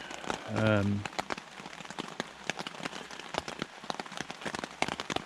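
Rain falling on a campsite, a dense patter of close drops tapping on a surface and crackling throughout, with a brief low voiced sound early on.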